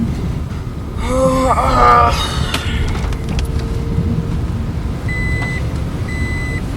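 Steady low engine rumble of a car on the move, with voices talking over it and a few short electronic beeps near the end.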